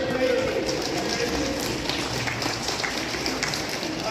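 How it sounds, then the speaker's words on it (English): An audience applauds a first-grade child in a ghost costume at a children's show, with dense, steady clapping that fills the whole stretch, close and loud, with voices faintly mixed in. "a round of applause for this first grade ghost"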